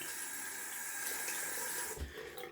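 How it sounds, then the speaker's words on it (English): Tap water running steadily while hands are rinsed after shaving with a Gillette Fatboy razor, a soft even hiss and splash close by, fading slightly near the end. "Just rinsing off my hands."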